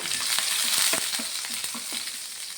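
Three or four thinly sliced shallots sizzle steadily in hot oil, a dense, even crackle with light stirring for a curry, close and continuous with no talking.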